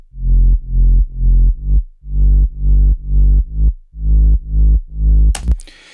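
A deep, rounded sub-bass synth, a filtered sine wave with distortion, plays a repeated rhythmic pattern of short pulsing notes for a future house track, loud and alone, ending with a sudden noisy burst.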